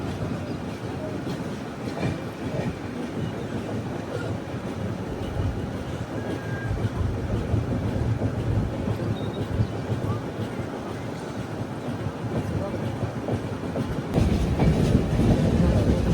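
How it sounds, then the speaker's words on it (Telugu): Alleppey–Dhanbad Bokaro Express pulling away from a station after a signal, with a continuous rumble of wheels on rail and steady clickety-clack from inside the carriage, louder toward the end. "మన బండికి సిగ్నల్ వచ్చింది, బయలుదేరిపోయాం మనం."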